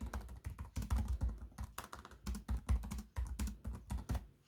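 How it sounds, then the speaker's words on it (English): Steady, rapid tapping of the keyboard on a 2020 Huawei Matebook 13 laptop, soft clicks in a continuous rhythm, close up with no talking. "you guys can sort of hear that keyboard. It's not too loud."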